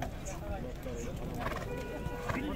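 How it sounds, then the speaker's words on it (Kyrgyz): Horses at a horse market, with whinnying and hoof clip-clop amid a busy crowd, as someone talks over the steady murmur of the scene. "Аттар аябай көп чыгып баштады мына."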